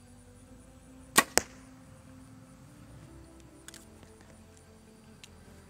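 Two sharp arrow releases from an Obsession FX7 compound bow snap out close together in quick succession, crisp and near, followed by faint distant ticks against a quiet outdoor background.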